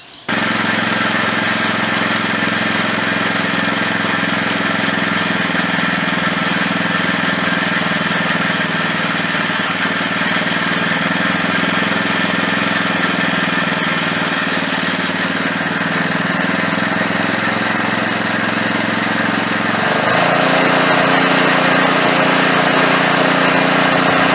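A small gasoline engine on a salvaged edger or lawn mower runs steadily and loudly nearby, its carburetor mixture screw opened about a quarter to a third turn, with a continuous rattling drone that shifts slightly in pitch near the end.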